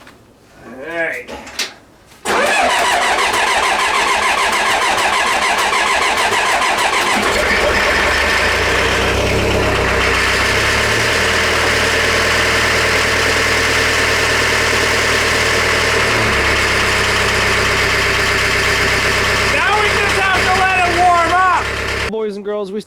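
Demolition derby car engine cranking and catching after a few tries, then settling into a loud, rough idle close by that holds steady with slight revs, while people talk over it.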